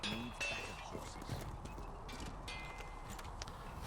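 Horses in Dragon Age: Inquisition clop along with steady, faint hoofbeats, and a brief whinny may sound near the start.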